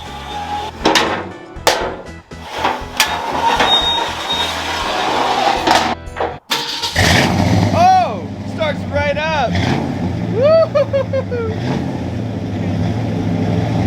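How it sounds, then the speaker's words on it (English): A 1965 Ford Fairlane with a 289 V8, two-barrel carburetor and MagnaFlow exhausts, heard with clunks and knocks before cranking and catching on the first try, then running with loud revs that rise and fall, close by. "First crank, it starts right up, baby."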